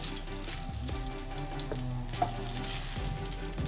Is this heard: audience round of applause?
no